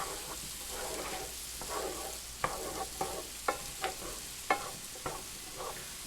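Sliced mushrooms cook down in a pan, giving a soft background sizzle under a string of distinct spoon or spatula scrapes and taps at an irregular, roughly half-second rhythm. No voice is heard.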